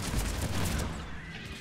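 Lancer assault rifle firing in Mass Effect 3 multiplayer, a dense burst of rapid shots in a continuous rattle that tapers off toward the end, loud and close with no talk.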